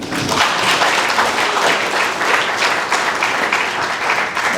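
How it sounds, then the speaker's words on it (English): An audience at a sustainable tourism panel discussion breaks into loud, dense applause that holds steady for several seconds. "I think we need another round of applause"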